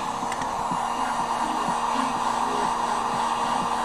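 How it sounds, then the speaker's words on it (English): A heat gun or similar hot-air tool blows steadily and loudly at close range, warming the back of an iPhone 8 Plus over the battery to loosen adhesive. A constant whoosh and hum runs throughout with no talking. "I'm going to heat up the back a little bit, right where the battery's at."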